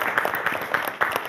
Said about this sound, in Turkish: Hadi bir alkış daha alayım.